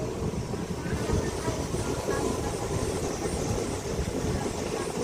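A slow train rolls through dense forest along an elephant corridor, its steady broadband rumble and faint wheel clatter filling the scene continuously at close range, with no pauses or distinct beats.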